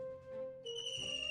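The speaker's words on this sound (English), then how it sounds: "That's some kind of bird that's making that noise." A bird calls from outdoors in short, clear whistled notes: one steady tone that shifts to a higher, thinner whistle partway through, moderately faint and with no talking over it.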